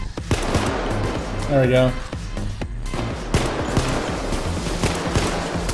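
Gunfire in the video game Payday 2, a sniper shot during a mall heist, with sharp gunshot cracks scattered through dense game noise and talk over them.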